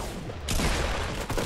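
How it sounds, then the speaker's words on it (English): Shotgun blasts in Fortnite: a quick burst of sharp, loud gunfire cracks crowds into about a second and a half, close and without talk. "Oh, shotguns work again!"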